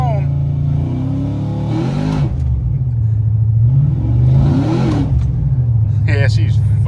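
Ford Mustang engine revving hard in second gear and surging as it fails to take third, the loud droning note rising and falling in two pulls with a person talking over it.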